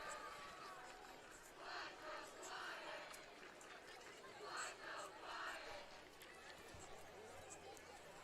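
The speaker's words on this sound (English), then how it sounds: "Elkhorn South fans still up on their feet cheering despite trailing by 42." Faint, distant crowd of Elkhorn South student-section fans cheering at a high school varsity football game, a washy roar that swells and fades in waves over several seconds.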